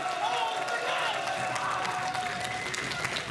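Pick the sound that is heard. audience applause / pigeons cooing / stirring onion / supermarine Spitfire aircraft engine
audience applause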